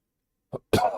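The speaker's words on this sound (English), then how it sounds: "Is my cough getting better?" A man gives a short cough followed by a second, louder throat-clearing cough, two brief close bursts after a moment of silence.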